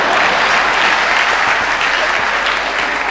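A large audience at a Tamil pattimandram debate show applauds loudly and continuously, a dense, even wash of clapping throughout.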